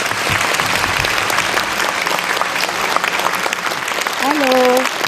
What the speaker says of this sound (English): Let's welcome Mr. Solorio with a big round of applause.